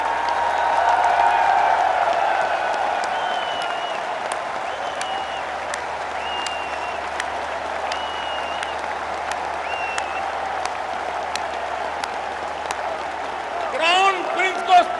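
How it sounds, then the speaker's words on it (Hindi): A large audience at a formal speech event gives the Crown Prince long, sustained applause, a dense steady roar of clapping that barely wavers for about fourteen seconds before a brief louder flourish at the end. "तालियों की गूंज से क्राउन प्रिंस का अभिनंदन कीजिए।"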